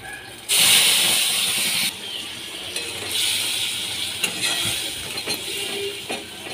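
Whole cumin, nigella seeds and green chillies hitting hot oil with bay leaf in a pan for a fish curry: a loud burst of hissing sizzle that settles into a steady crackling fry with occasional pops and clinks.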